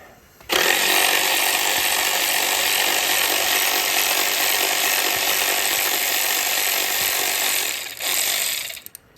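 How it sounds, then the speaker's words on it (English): A power ratchet runs continuously for about seven seconds, loud and close, removing an 8mm coil pack bolt on a Ford Mustang Shelby GT350, then stops briefly, whirs again for a moment and cuts off. "Now I'm using a power ratchet."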